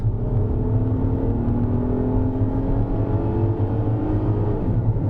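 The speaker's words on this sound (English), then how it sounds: "And it accelerates good, and that engine note is decent." A 2022 Acura MDX SH-AWD with a 10-speed automatic pulls hard out of a corner, its engine giving a steady, moderately loud hum whose pitch climbs smoothly, heard from inside the cabin with no talking.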